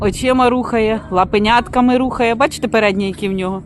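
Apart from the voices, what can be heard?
No everyday noises stand out.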